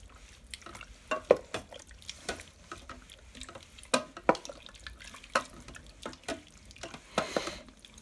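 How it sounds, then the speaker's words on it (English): Curry powder being stirred into milk for Thai chicken curry, close-up with irregular clinks and scrapes of a spoon against the pot and soft liquid sloshing, no speech. "Let's stir this up."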